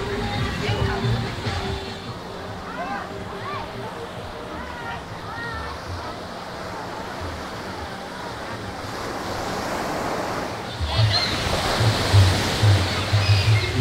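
Waves washing in at Lagundi beach near Carita under stormy weather. The surf roars steadily, wind buffets the microphone, and the surge grows louder toward the end.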